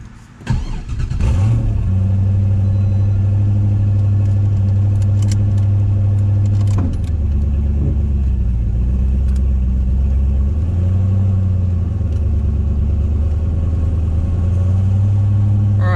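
A 900whp 1998 Pontiac Firebird Trans Am pulls away, its deep V8 rumble loud and steady throughout with surging revs as it rolls out, one brief voice near the start.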